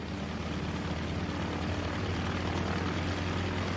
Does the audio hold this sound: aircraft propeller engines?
yes